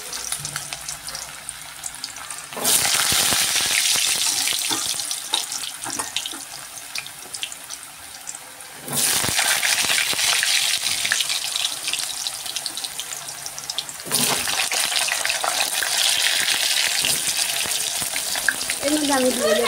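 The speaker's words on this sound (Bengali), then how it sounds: "এবার আমি আলুগুলো ছেড়ে দিচ্ছি।" Potatoes sizzle in hot oil in a wok, a loud, broad hiss that surges in bursts as they are added and stirred, close and continuous.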